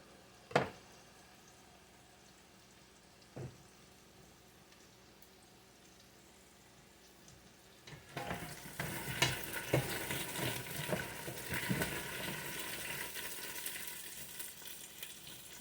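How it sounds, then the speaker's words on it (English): Potatoes brown in a pan with two sharp knocks at first. Then a loud, dense sizzle and frying crackle swells as they are flipped and stirred. "I'm just flipping my potatoes over. Like I said, I'm browning the potatoes."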